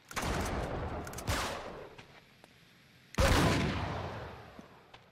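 Heavy gunfire erupts in the video game Uncharted 3: Drake's Deception, two loud booming bursts with long decaying rumbles, the second hitting harder, with no speech over them.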